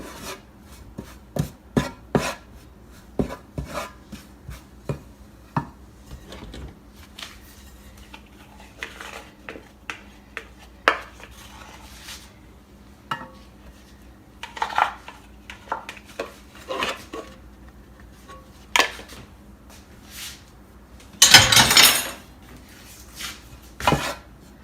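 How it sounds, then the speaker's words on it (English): Coconut flour being fried and stirred in a pan for keto low-carb garri, giving repeated scraping and rasping strokes of a utensil against the pan, with a louder burst of scraping near the end and no talking. "You keep frying it until you get the color that you want."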